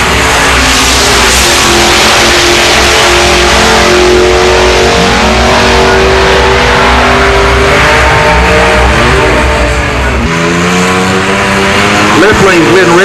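A Buick drag race car with an iron-headed 462 Stage 1 engine roars at full throttle down the strip at a Buick GS drag event, its loud rising engine note sustained throughout, with a voice faintly audible beneath.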